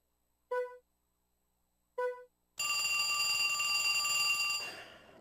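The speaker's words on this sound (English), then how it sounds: "Should have unplugged the phone." A telephone rings in the video game Trauma Center: New Blood: two short electronic chirps, then a sustained loud, buzzy trilling ring that lasts a couple of seconds before fading.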